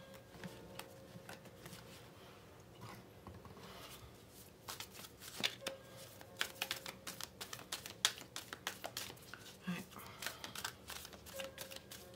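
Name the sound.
shuffling tarot cards for a reading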